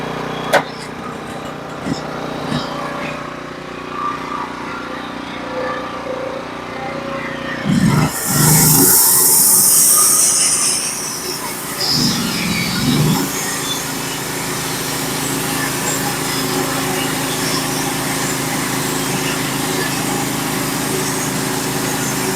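A cold chainsaw engine runs while cutting a frozen log, a high buzzing drone that surges to a louder, rough bite around the middle as the cut takes hold, then settles back to a steady idle-like run.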